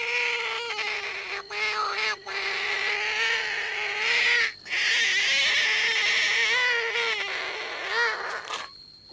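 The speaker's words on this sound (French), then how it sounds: "La grenouille taureau, par exemple." A loud, continuous nature chorus of calling bullfrogs with steady croaks and trills, dense and close, with brief gaps in the calling.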